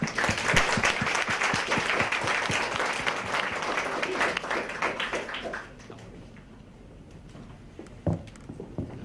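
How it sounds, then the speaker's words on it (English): Enthusiastic applause from a conference audience after remarks by a Deputy Prime Minister, dense clapping for several seconds before thinning out into a few scattered claps. "give both the Deputy Prime Minister and Dr. Jerry a round of applause for their candid comments"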